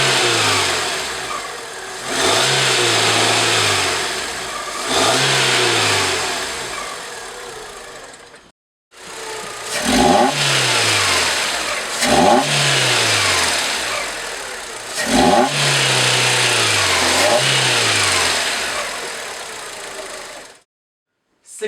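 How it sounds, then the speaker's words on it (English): A Fiat engine fitted with a K&N RR-3002 aftermarket air filter revs repeatedly, loud and close, with rising and falling throttle blips, a brief cut, then more revs. "This has a much deeper sound and makes your engine sound way better than with stock one."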